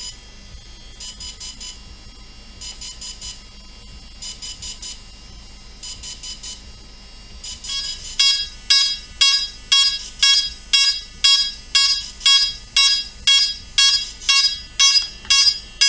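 A DJI Phantom drone beeps insistently, as if calling for an update: first spaced clusters of rapid high chirps, then louder, regular repeated beeps, with no talking.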